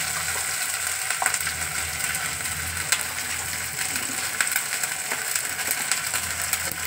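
Ginger paste frying in a pan with cabbage, a steady sizzle with scattered ticks and crackles from the pan, close and moderately loud, no talking.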